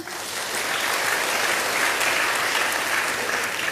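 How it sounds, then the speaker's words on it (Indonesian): Congregation applauding in a church service, a thick, sustained roar of clapping from a large audience that stays loud and even from start to finish. "tepuk tangan buat Tuhan"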